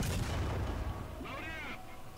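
An American M10 tank cannon fires in the War Thunder video game, a single loud boom at the start that rolls away into a fading rumble, followed by a brief higher mechanical whine.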